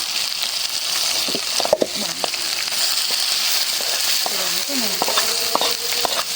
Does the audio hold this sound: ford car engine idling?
no